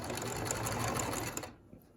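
Sewing machine stitching down the fabric of a surgical mask: a close, steady, rapid mechanical whirring that runs for about a second and a half, then stops abruptly into near quiet.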